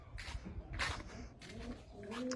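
Pigeons coo softly in a low, repeated warble at close range, with faint rustling and other bird sounds mixed in, during a fly test of a crossbreed flock.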